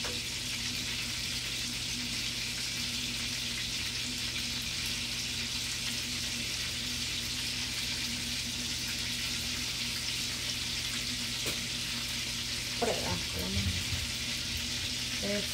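Garlic sizzling in a frying pan, a steady close crackling hiss throughout with a few faint clinks near the end.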